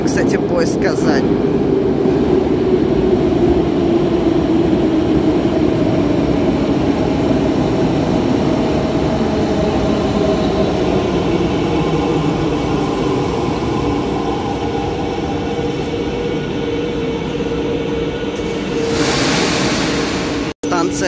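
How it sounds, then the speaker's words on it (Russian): A Kazan metro train running through the underground, a loud sustained rumble of wheels and motor with a falling whine, steady and close throughout before cutting off abruptly near the end. "А это, кстати, поезд Казань."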